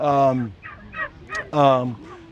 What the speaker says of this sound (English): start incubating our own eggs with the turkeys and start raising our own turkeys